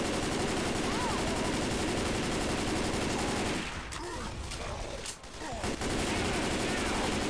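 Dense, continuous automatic gunfire from Left 4 Dead 2, loud and close, briefly thinning in the middle before resuming, with players' voices faintly underneath.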